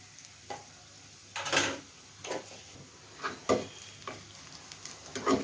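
Panch phoron spices with chopped onion and garlic frying in oil for a Bengali cabbage and urad dal dish, a low steady sizzle broken by several sharp stirring scrapes and clatters against the pan, close and alone.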